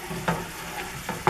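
Lemon juice is stirred into a scallop spaghetti pan sauce over low heat, giving a soft steady sizzle with a few brief scraping strokes of the spoon, fairly quiet and close.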